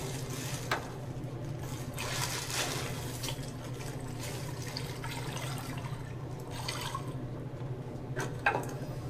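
Water pours steadily into a brew kettle, topping a partial-mash hefeweizen batch up to 5 gallons. The filling is a continuous, moderately close wash of splashing with occasional small drips and clinks.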